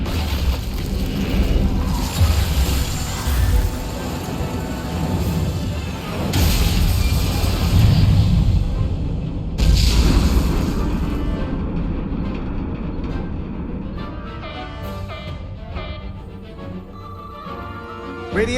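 A starship weapons salvo in Star Trek: Resurgence, heavy booming blasts and rumbling crashes in loud bursts over a dense sci-fi soundscape that thins out toward the end.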